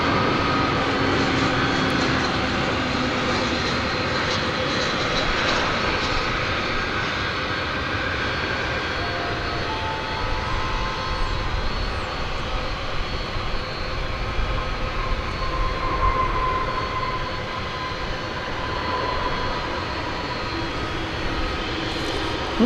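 An airliner roars steadily at DFW Airport, a continuous broad jet-engine rumble that holds loud for the whole stretch during takeoff, with no voices.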